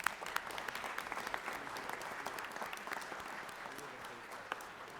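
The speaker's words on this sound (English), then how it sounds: "let's give them a hand of applause." Applause from an audience of parents, coaches and officials in a legislative chamber, a steady dense wash of clapping held at moderate distance for the whole stretch, with no talk over it.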